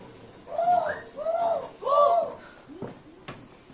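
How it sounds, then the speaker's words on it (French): A turtle dove coos three times in a soft, rhythmic series, fairly close, followed by a couple of faint knocks. "Une tourterelle."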